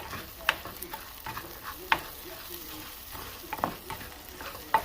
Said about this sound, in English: I'm not going to put that in there yet because I need to saute this